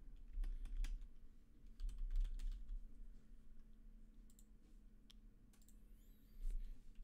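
Typing on a computer keyboard while setting up a game mode in Unreal Engine 5, heard as quiet, irregular clicks and taps with short pauses over a low steady hum, no talking.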